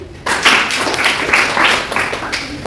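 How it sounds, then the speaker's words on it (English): Classroom of students clapping together, a dense steady patter of hand claps lasting a few seconds, loud and close. "Clap for him."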